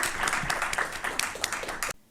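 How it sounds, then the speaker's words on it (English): A policy-event audience gives a round of applause for a panel on Afghanistan's economy, poverty and gender issues, with a brisk, even clatter of many hands that cuts off abruptly near the end. "Maybe we can just give a round of applause to the panel."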